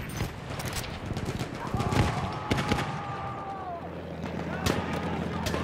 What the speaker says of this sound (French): C'est une mitrailleuse ennemie